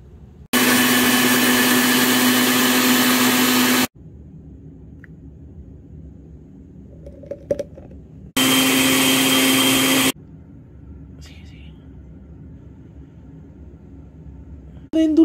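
A blender whirs through milk and ice cream for a milkshake in two loud bursts, a long one and then a shorter one, with quiet gaps between them and faint clinks.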